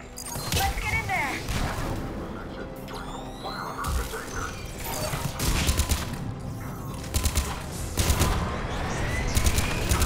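Rapid bursts of gunfire and mechanical clatter from a firefight at a checkpoint in Mass Effect 3, steady and loud throughout with voices speaking over the action.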